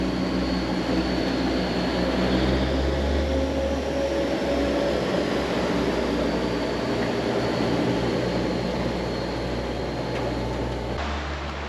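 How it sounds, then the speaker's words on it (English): A small four-propeller drone in flight gives a steady, close, continuous whirring drone with a faint high whine riding over it, holding level throughout with no voices. "in the process of trying to fly the drone, all the propellers broke"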